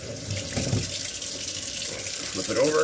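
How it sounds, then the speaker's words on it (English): Cold tap water runs steadily over a brined prosciutto ham being rinsed in a sink, a continuous splashing stream with a brief spoken remark over it. "I'm just going to use this nice cold water, and I'm just going to rinse the whole thing off."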